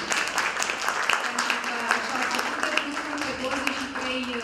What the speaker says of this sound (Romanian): să-i aplaudați mai tare pe acești copii.